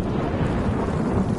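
Thunderstorm rumble in the video game Stray Souls, a steady, dense low roar of thunder and rain filling the short stretch at moderate level, with no voices.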